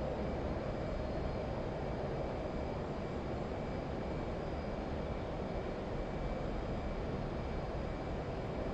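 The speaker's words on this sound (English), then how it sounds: "Afterburner, yep." An F/A-18 jet in the DCS combat flight simulator roars steadily on afterburner, a loud, unbroken engine rumble with no talk over it.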